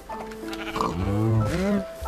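Minecraft sheep let out a couple of drawn-out, quavering bleats up close, mixed with someone speaking over them.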